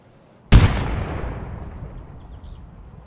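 A grenade explodes in the Escape from Tarkov video game with one sharp, loud blast that rolls off into a long, fading rumble.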